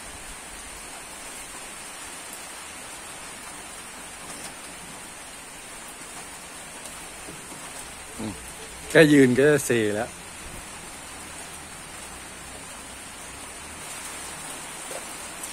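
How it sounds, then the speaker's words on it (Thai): Steady rain hisses continuously throughout on a Thai duck and chicken farm, with a short spoken remark breaking in briefly partway through. "ฝนตกมันติดต่อกันเนี่ยอาทิตย์กว่าแล้วนะครับ"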